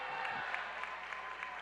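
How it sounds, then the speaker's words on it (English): Faint, distant crowd applause in a high school girls basketball gym as a player checks in on a substitution, a steady wash of clapping without distinct individual claps. "here comes Tyler Waterman in for Rivera, who gets another nice round of applause"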